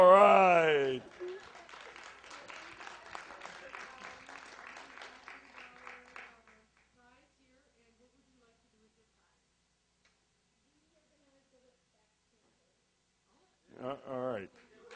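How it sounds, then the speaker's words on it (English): An audience at a live game-show event applauds a team after a short spoken line. Dense, steady clapping lasts several seconds, then fades away into silence before a voice returns near the end. "Let's give a round of applause again to the Blooming Idiots for doing such a great job."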